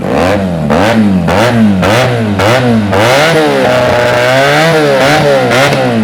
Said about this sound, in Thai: โหแล้วเสียงมันดุดัน เสียงเหมือนสี่สูบ